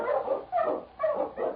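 A husky sled dog barks in four short, rhythmic bursts, fairly close and loud, with no talking over it.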